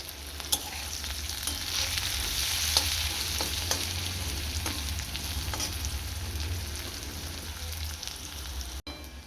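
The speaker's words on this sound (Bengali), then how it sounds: "দেখো পেঁয়াজগুলো ব্রাউন কালার হয়ে এসছে, ভাজা হয়ে গেছে।" Onions sizzle steadily in hot oil in a pan while a spatula stirs and scrapes, producing scattered clicks and scrapes over the constant frying hiss, close up and without speech.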